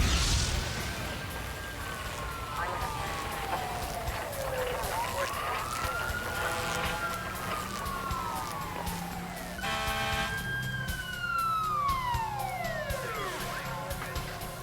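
Wailing sirens of Los Angeles fire department emergency vehicles arriving at a fatal car crash scene, loud and close, with several rising and falling sweeps overlapping above a steady engine rumble.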